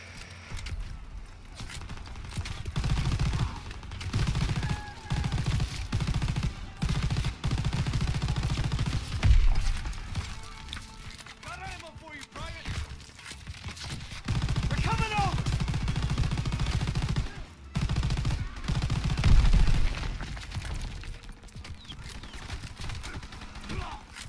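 Sustained gunfire from the Call of Duty WW2 D-Day beach landing mission, rapid machine-gun bursts and rifle shots rattling almost nonstop, briefly cut by short gaps, with a voice calling out under the battle din.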